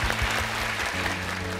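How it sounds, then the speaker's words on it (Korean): Audience applause at the close of a Korean televised crowdfunding pitch event for social enterprises, a continuous spread of clapping over a low steady hum, brief and fairly even. "박수 한번 주실까요?"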